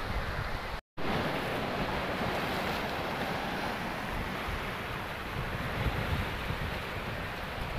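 Sea waves reach the shore at Bandra Bandstand in Mumbai as a steady broadband wash of surf mixed with wind noise, with one brief dropout near the start.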